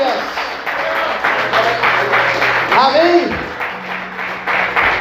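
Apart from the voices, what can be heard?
church congregation applause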